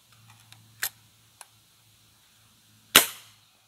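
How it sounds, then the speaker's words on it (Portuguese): A Norica Dragon air rifle fires a Volex pellet with one sharp, loud crack near the end, preceded by a few small clicks and taps from handling over a faint low hum. "Mais um disparo com o Volex para ver se vai ficar mais ou menos nessa média de velocidade."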